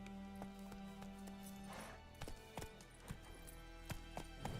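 Roach, Geralt's horse in the video game The Witcher 3, trots with a run of rhythmic clip-clop hoofbeats over a low ambient bed, the steps growing clearer and more spaced in the second half.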